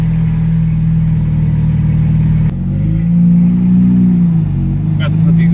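Nissan Maxima with a swapped HR engine running with no exhaust fitted on its first test drive, a loud raw droning rumble that holds steady, then dips and rises as revs change, close up and without speech.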